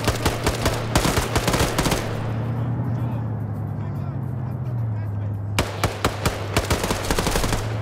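Rapid video game gunfire crackles in loud bursts at the start and again near the end, over a steady low droning hum, with a quieter rumbling lull between the volleys.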